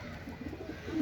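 A female pigeon of the Madrasi breed gives a soft, low cooing call, faint and close, in a brief burst with no speech.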